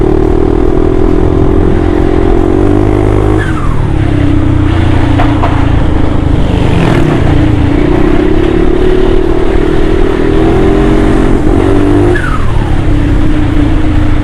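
A turbocharged Honda Forza 350 scooter with an 80 mm piston kit is ridden hard, its engine droning loud and close while the pitch rises and falls as it accelerates and eases off, with a whistling turbo note. No one speaks.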